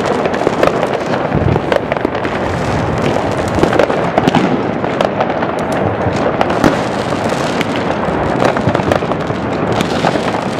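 New Year fireworks and firecrackers bursting over Žilina, a loud dense barrage of overlapping bangs, crackles and pops, near and far together, filling the whole stretch without pause.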